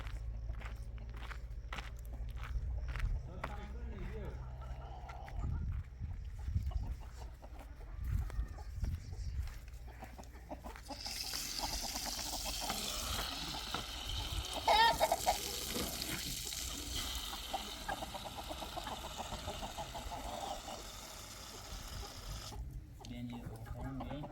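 Chickens cluck intermittently at a homestead among close, loud conversation, footsteps and other household noise, the birds mostly sitting under the voices throughout.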